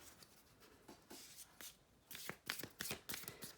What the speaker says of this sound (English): I'm gonna pull an oracle card